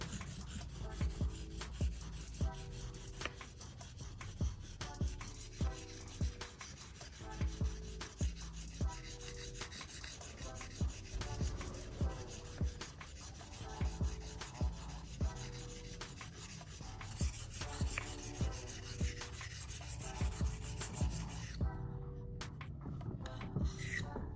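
A hand file strokes steadily along the blade of a pair of pruning shears in a rhythmic back-and-forth rasp, close and even, roughly one stroke every second, ending in a brief quiet.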